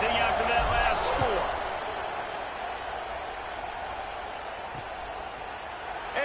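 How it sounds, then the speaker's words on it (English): Stadium crowd at a college football game involving LSU, a steady broad murmur of thousands buzzing after a score, with a commentator talking over it throughout. "this crowd is buzzing after that last score"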